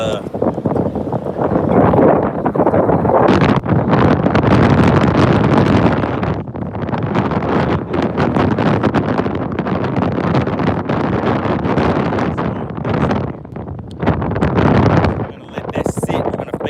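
Strong gusty wind from Tropical Storm Bertha buffets a boat on the Gulf of Mexico, loud roaring blasts rising and falling across the whole stretch and battering the microphone.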